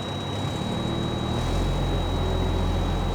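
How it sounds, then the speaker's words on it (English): A Mack heavy-duty truck's diesel engine revs up and holds a steady, loud, droning idle to build air pressure, with a constant high whine running underneath throughout. "I'm gonna rev up the engine so we can increase the engine RPMs"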